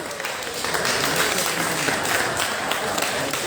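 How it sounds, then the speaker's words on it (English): A bar crowd at a nerd night event applauds for the venue, School Bar, dense continuous clapping filling the room at steady loudness, with faint crowd murmur mixed in. "Everyone give a round of applause for School Bar."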